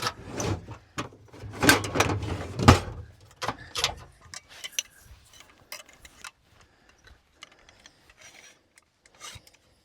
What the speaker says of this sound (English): Get them out of the drawer.